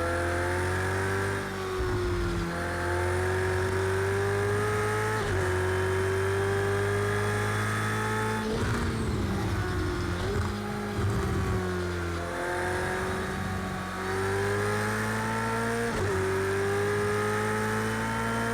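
Ferrari 488 GTE race car in Project CARS 2, its engine droning steadily at high revs with clear gear shifts and pitch drops every few seconds, close and continuous with no talk.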